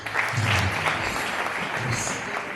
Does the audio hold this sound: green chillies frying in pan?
no